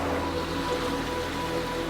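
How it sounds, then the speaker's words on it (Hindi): A broad, constant roar of a large, fast river rushing through a vast cave after heavy rain, a dense unbroken wash of water noise without any voices. "इस गुफा के इस हिस्से में एक बहुत बड़ी नदी है।"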